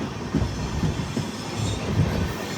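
Nanded Express passenger train pulling out of Peddapalli Junction, a steady close rumble of wheels and carriages with faint clickety-clack rhythm, no voices.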